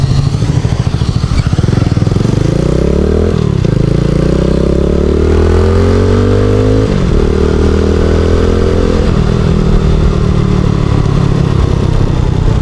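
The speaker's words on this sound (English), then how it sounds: "add gas slowly, and then slowly let off the clutch" A motorcycle pulls away as throttle is added and the clutch is let out, the loud engine rising in pitch through several surging pulls, close up and steady, with no talk over it.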